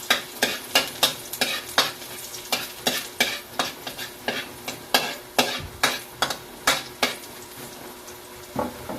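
Garlic fries in a pan under a continuous sizzle, with a spatula scraping and knocking in a regular rhythm about twice a second, close and fairly loud.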